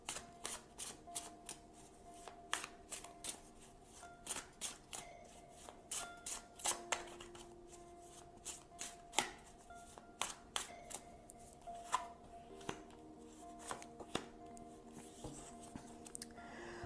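Tarot cards shuffled at close range in a run of crisp riffling snaps and soft slides, steady and unbroken over a faint hum, with no voices.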